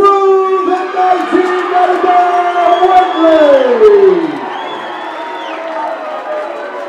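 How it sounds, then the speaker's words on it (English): A boxing event crowd cheers and whoops for both boxers after a three-round contest, loud sustained voices rising and then easing off, with a long bellowed call sweeping over the noise. "please, a huge round of applause for both boxers in that contest"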